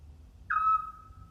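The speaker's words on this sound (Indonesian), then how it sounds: "Suara jangkrik dan burung-burung malam sesekali juga terdengar" A single night bird gives one clear, steady whistled call, like an owl, lasting about a quarter second before trailing off, over a faint low background on a quiet night.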